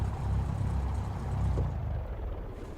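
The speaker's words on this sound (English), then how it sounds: "And we'll pull the mixture to stop the engine." A Cessna 172 engine in X-Plane 12 idling with a low steady rumble, then winding down and fading toward quiet as it is shut off.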